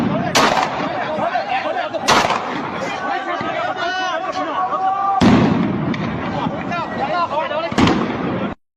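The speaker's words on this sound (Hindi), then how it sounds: "दोनों के बीच ऐसी झड़प हुई कि दोनों तरफ से गोलीबारी शुरू हो गई।" Gunfire during clashes between protesters and Iraqi security forces near the US embassy in Iraq: several sharp loud cracks at intervals over a continuous crowd din with shouting voices.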